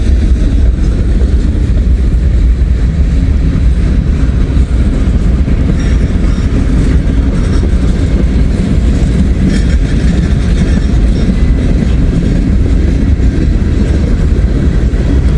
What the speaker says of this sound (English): That's a nice slow train here